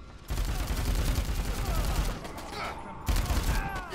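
Continuous assault rifle fire in Dead Rising 4 comes as dense, loud bursts of rapid shots that run almost without a break. A short dip near the middle sounds like a switch to another gun, and a voice is faintly present.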